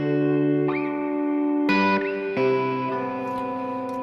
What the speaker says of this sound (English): Let's put on some reverb.